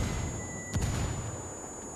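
A single dull mortar blast lands mid-distance in the PS4 tactical shooter Ghost War, a brief faint thump over quiet game ambience with no voices.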